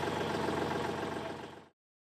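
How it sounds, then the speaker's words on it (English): A PyroLance system engine runs at a steady idle, a dense, close mechanical drone with a faint rhythmic knock that holds for over a second and a half, then stops abruptly into silence. "Once the engine is running, the low pressure light will go out"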